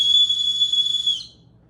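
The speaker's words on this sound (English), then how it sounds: "Obviously the whistle" A whistle attached to a Salehe Bembury sneaker gives one sustained high, shrill tone lasting just over a second, loud and close, then cuts off into quiet.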